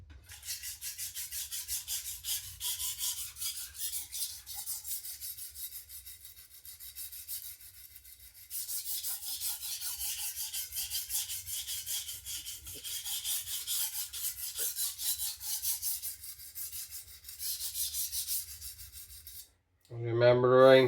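A knife is sharpened on a diamond Atoma plate in repeated rasping strokes, one after another, close up and steady, with a short pause near the end before a final burst of scraping.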